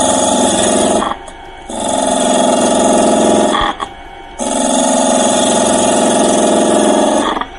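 Loud, steady whine and rasp of a wood turning lathe as a spindle gouge cuts and rounds the top of a spinning workpiece, broken by two short pauses where the cut lifts off before resuming.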